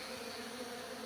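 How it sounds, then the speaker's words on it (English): A dense, steady hum of many bees buzzing inside a large hive being relocated from a garage wall, heard close up as a continuous faint drone with no talking. "So a lot of bees in this hive."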